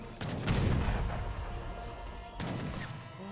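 Heavy cannons fire during a battle in Age of Empires 3, two bursts of booming artillery shots with crackling impacts, the first volley near the start and a second after a short lull.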